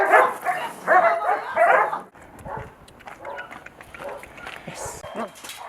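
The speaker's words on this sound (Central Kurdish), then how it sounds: "ئەو سەگانە کۆ دەکاتەوە کە بێلانەن و شوێنی حەوانەوەیان نییە" Rescued stray dogs bark and whimper in a burst of overlapping calls, followed by softer scattered yips and rustling nearby.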